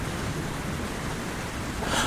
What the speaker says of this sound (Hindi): अब इस तेज बारिश में मैं उसे कहाँ ढूंढूंगा?